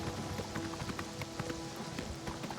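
Horse hooves clip-clop steadily in Oblivion Remastered, a rapid run of dull hoof strikes at a moderate distance over a constant game ambience, with no talk.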